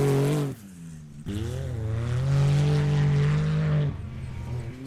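A rally car at the 2019 Cobb & Co St George 399 accelerates away on a dusty circuit. Its loud, close engine note climbs steadily in pitch, then drops briefly before picking up again.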